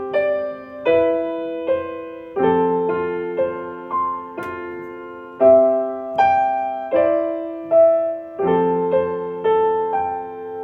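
A grand piano plays a slow, gentle sequence of chords, each struck clearly and left to ring and fade, with no other sounds.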